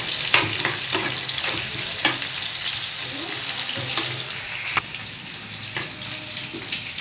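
Onions and chili powder fry in a pan for chicken curry, with a steady sizzle and scattered stirring scrapes and knocks running through the whole stretch, close and moderately loud.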